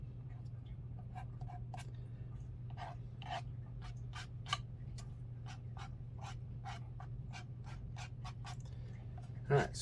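A tool scrapes across watercolor paint on paper, making a rapid series of short, faint scratching strokes in an uneven rhythm over a low steady hum.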